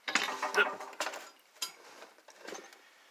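A driver-side half-shaft is pulled out of a 1991 Mazda 626, giving short metallic clanks and ratcheting scrapes in a few quick bursts, close and moderately loud.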